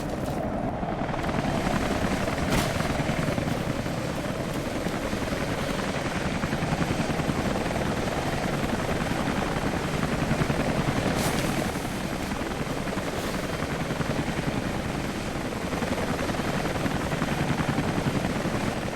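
A chopper leaving a command post in the game Rise of the Tomb Raider roars continuously and loudly close by, a dense steady rotor and engine wash with faint sharp clicks now and then.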